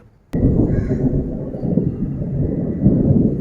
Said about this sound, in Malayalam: ഇടിവെട്ടുന്ന സൗണ്ട് കേട്ടോ.